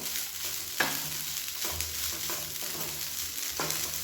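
Ingredients for idli white kurma sautéed and stirred in a pan, with a steady close sizzle and several sharp scraping knocks of a spoon against the metal spread through the stretch.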